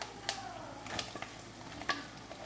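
Chopped onions tumble into a hot pan of oil and curry leaves for a mutton stew, sizzling and crackling softly while a spoon stirs them, with a few sharper scrapes along the way.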